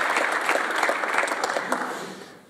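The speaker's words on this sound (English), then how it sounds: "Huge round of applause for Marlene." Warm round of applause from an audience at a session in the Senate of the Netherlands in The Hague, dense clapping that tapers off toward the end.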